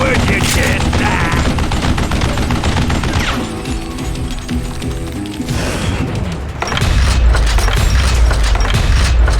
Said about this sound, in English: playing with Gatling guns is not fun for the recipient of all the bullets